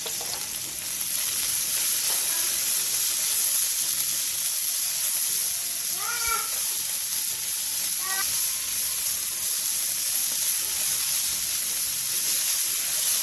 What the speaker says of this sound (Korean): 팬에 기름을 두른 뒤 부추, 다진 마늘 반 스푼, 소금 3분의 2 티스푼을 넣고 센 불에서 볶아주세요